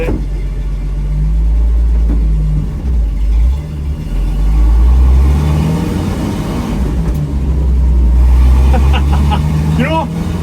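A 1972 Ford F100 pickup with a three-on-the-tree manual column shift and no power steering drives along, its engine rumbling loud and close with swelling revs, while people talk inside the cab.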